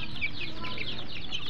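Several farm chickens cluck and squawk close by in a short burst of overlapping calls, with a faint voice underneath.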